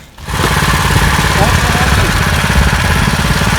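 The small engine of a homemade no-weld go-kart starts and runs close by, its loud, rapid, chugging putter like a lawn mower holding steady throughout.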